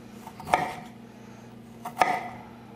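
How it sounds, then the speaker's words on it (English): Two sharp knife chops on a board, roughly a second and a half apart, slicing cranberries or a similar ingredient in a kitchen, close and crisp against a quiet background hum. "So you slice it and you slice it again like that?"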